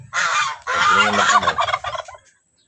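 Domestic turkeys gobbling on a backyard farm: two loud, close bursts of rapid rattling gobbles in quick succession, with other fowl among them, fading out at the end.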